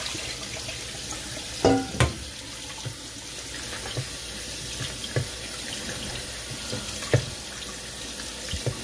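Water runs steadily from a tap while sea moss soaks and is rinsed, a continuous splashing stream with occasional clinks and knocks of handling close by.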